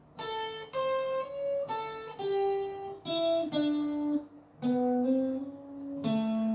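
A guitar riff played slowly, one plucked note at a time with clear gaps, each tone ringing out alone at moderate loudness.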